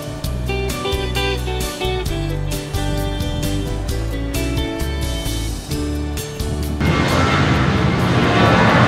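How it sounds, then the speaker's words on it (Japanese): An airplane engine at Itami Sky Park beside Osaka Itami Airport starts as a low drone under music, then swells into a loud, broad jet roar near the end of the clip. "ちょっと飛行機のエンジンの音がやかましいので"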